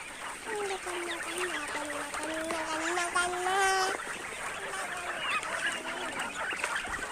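A flock of healthy poultry on a farm calls out with clucks and longer rising cries over a busy, noisy background, fairly close and continuous throughout.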